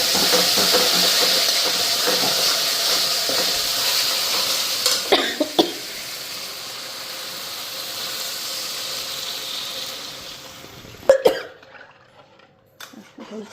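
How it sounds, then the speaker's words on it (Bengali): Spices fry in oil that has already been used for frying lots of fish, giving a steady close hiss and sizzle for about ten seconds, with a few clatters of stirring, before the sound drops away and a couple of knocks follow. "এইদিকে মশলা ভাজা হয়ে গেছে দেখো"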